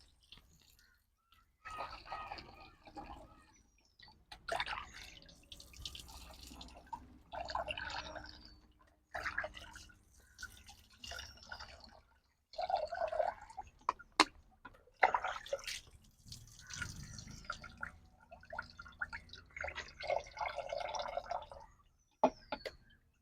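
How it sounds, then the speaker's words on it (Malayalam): Water is poured into a container of homemade bio-enzyme on a terrace garden and stirred in. The result is soft, intermittent dripping and splashing in irregular bursts with brief pauses, fairly faint and close. "ഇനി നമ്മൾ ഇതിലേക്ക് വെള്ളം ഒഴിച്ച് മിക്സ് ചെയ്തെടുക്കാവേ."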